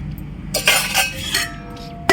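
A few clinking, scraping knocks as a lid is set onto a clay pot of sambar, close up against a low background hum.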